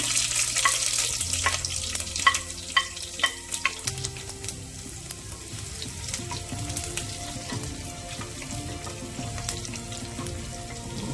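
Sliced onions fry in oil in a pan after mustard seeds have popped, giving a soft, even sizzle with a few sharp crackles early on and the scrape of stirring.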